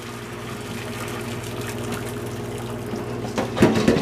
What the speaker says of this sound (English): we're going to drain off the boiling water